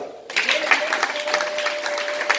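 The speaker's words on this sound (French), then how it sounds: "Acclamez pour ça" An audience at a French-language talk breaks into applause, a dense steady clatter of many hands clapping that starts abruptly and holds loud to the end, with a voice or tone faintly underneath.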